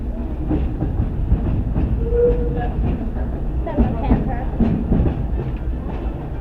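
Disneyland Railroad train rolling along its rails on a circle tour, a steady close rumble with soft clacking and a brief squeal, under faint background chatter.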